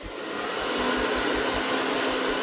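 A hair dryer blows with a steady, loud whooshing roar and a low hum underneath, running without a break.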